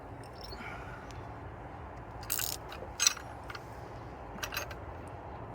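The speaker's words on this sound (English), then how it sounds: "we're gonna use the 6mm as a counter hold and tighten this up" A shock absorber bolt is tightened with a tool while a 6mm Allen key holds it steady, heard as a few quiet metallic clicks and ratcheting bursts over a low background hum.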